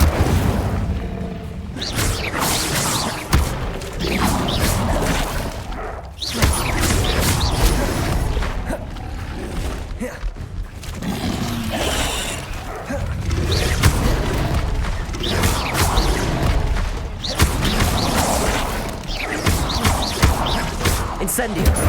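Incendio fire spells cast in Hogwarts Legacy burst as heavy whooshing booms, recurring every few seconds with crashing, mechanical clatter between them, all loud and close.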